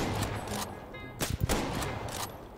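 A few sharp rifle shots in Garry's Mod, one heavy, loud report near the middle with some lighter cracks around it over steady game noise.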